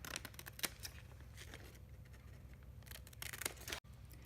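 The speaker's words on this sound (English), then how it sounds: "So using paper scissors, I'm cutting around" Paper scissors snipping around a fabric appliqué design, close and quiet, with a series of short crisp cuts and rustles that come in brief clusters, then a sudden drop near the end.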